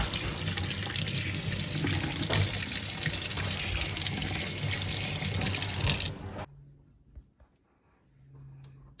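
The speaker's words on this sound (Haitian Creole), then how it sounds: "Après ça, je vais mettre un petit de l'eau chaude pour rincer." Hot tap water runs steadily into a sink to rinse off vinegar and lemon in a home kitchen, a loud continuous splash for about six seconds before it stops, leaving faint handling sounds.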